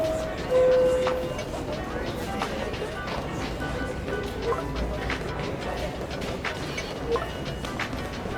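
A subway train pulls into the 125th Street station on the Harlem line in the video game Spider-Man: Miles Morales, a steady rumbling rail noise with a brief chime near the start and a voice talking over it.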